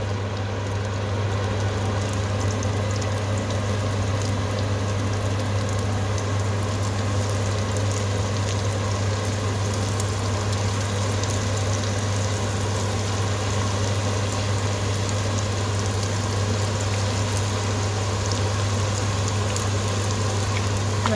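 Thattai vadai frying in hot oil, a steady bubbling sizzle with a constant low hum beneath it, even and continuous with no talk.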